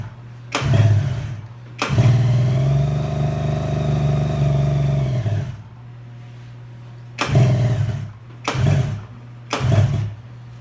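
A new Polaris Ultra UTV engine cranks in short bursts, catches and runs roughly for several seconds before cutting out, followed by three more brief cranking attempts, close and loud, no talking.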